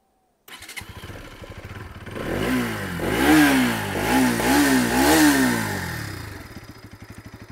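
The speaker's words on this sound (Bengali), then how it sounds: "আমি এক্সস্টের সাউন্ডটা আমি আপনাদেরকে দেখাচ্ছি" A 2025 Bajaj Pulsar NS200 motorcycle with an underbelly exhaust cranks and fires up, then idles with a steady single-cylinder thrum and is revved in several rising and falling blips before settling back to idle, close and loud.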